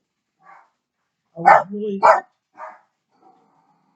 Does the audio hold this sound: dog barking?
yes